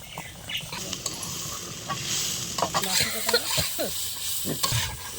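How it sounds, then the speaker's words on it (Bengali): Beetroot fries in a pan beside a simmering fish curry, with close sizzling and repeated scraping stirs of a spatula against the metal surface. "ওর মধ্যে দিয়ে বিটটা ভালো করে ভেজে নেব"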